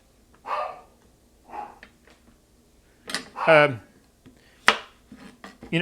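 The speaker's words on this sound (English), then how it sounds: "there's my puppy barking" A pet puppy gives a few short, sharp barks at intervals from close by in a home kitchen where vegetables are being cut for a low-carb sauce. Quiet gaps and light knocks fall between the yaps.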